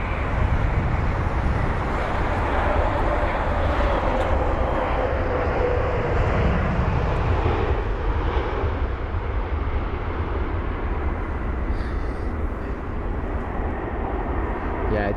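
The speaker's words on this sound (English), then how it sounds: "Here's the 787 to just welcome us back into the London Heathrow show." A Boeing 787 airliner at London Heathrow gives a sustained, fairly loud jet roar with low rumble, steady across the whole stretch and heard alone.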